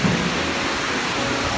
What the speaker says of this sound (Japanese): ちょっとあいにくの雨なんですけど